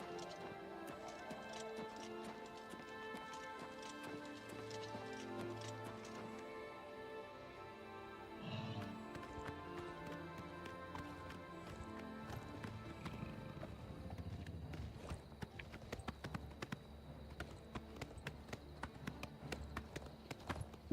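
Rhythmic clip-clop of horse hooves in the video game The Elder Scrolls IV: Oblivion Remastered, faint at first and growing more distinct, over soft background music.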